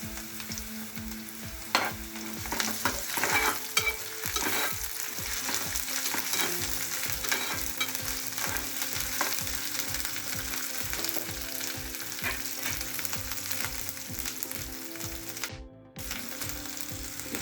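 Ginger paste fries in a pan of oil while a cucumber curry is being cooked, a steady sizzle with rhythmic scraping and clicking stirring strokes, close and continuous with no talking.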